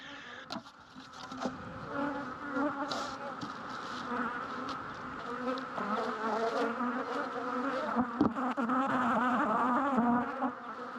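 A dense, steady buzz of many honey bees swarming close by around an open hive in mid-April, rising and falling slightly, with occasional sharp clicks; no voices.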